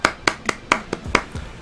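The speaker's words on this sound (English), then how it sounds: "Let's give a round of applause." A short round of applause: seven sharp hand claps at a steady, brisk rhythm, close and fairly loud, with no voices.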